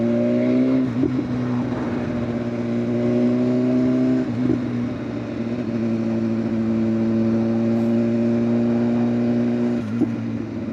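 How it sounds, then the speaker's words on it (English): A 2016 BMW S1000RR Gen 3 sport motorcycle engine revs and holds a loud, steady mid-pitched drone, with pitch dips and swells around throttle changes, close and continuous with no talking. "Yeah, this is a very noisy bike, bro. Very noisy."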